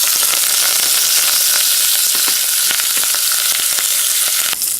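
Urad dal, turmeric and curry leaves crackle in hot oil as a tempering for radish curry. The sizzle is loud and continuous, with sharp pops scattered throughout and no voices.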